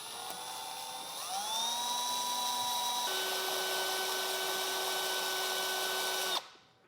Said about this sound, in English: we'll start with a 1/4 inch drill bit, and we're going to move up to just below a 1/2 inch